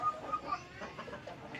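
Hens in a backyard chicken setup cluck in soft, irregular bursts, fairly faint and close, with no one talking.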